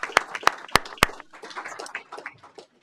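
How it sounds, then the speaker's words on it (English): Four loud, evenly spaced hand claps ring out at a town council meeting, then trail into softer, scattered clapping from a small crowd. "Let's give him a round of applause for that."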